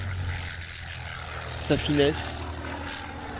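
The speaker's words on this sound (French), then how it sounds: "Le de Watine continue ses évolutions, vous montrant toujours ses capacités manœuvrières" A Dewoitine D520 propeller fighter's engine in a virtual airshow flight game, set at La Ferté-Alais, gives a steady droning hum throughout while someone commentates over it.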